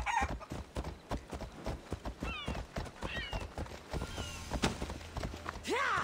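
Horse hooves clip-clop in a steady rapid rhythm in the video game Assassin's Creed Odyssey, close and clear, with a few whinny-like sweeps and game sounds layered in.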